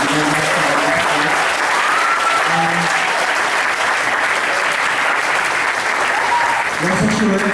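A crowd claps at a gathering of young legislators speaking against the RH bill, loud sustained applause filling the room while voices talk faintly underneath.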